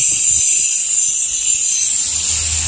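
Pump sprayer misting iron remover onto a car during a wash, a loud continuous high hiss of spray held steadily, with a faint rumble underneath and no voices.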